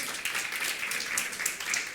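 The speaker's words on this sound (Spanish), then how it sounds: "¿Alguien le puede dar un aplauso bien fuerte al Señor?" A church congregation applauds loudly during a sermon, a sustained, thick roar of many clapping hands from a large room, steady throughout with no speech over it.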